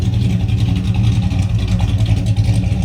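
A 1965 car's engine droning steadily while driving, a loud, low continuous rumble heard from inside with no break.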